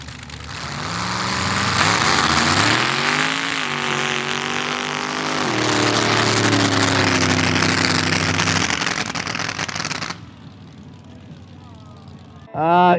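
A mud drag race truck with a 383 stroker engine roars down the track, engine note rising and dropping through gear changes, loud, then fading into distance as a commentator talks over it.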